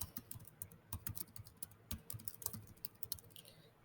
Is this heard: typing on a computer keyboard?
yes